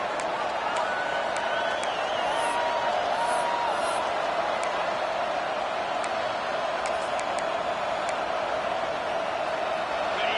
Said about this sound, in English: Guns up, and so is the noise. The crowd electric, trying to help Tech on this third down.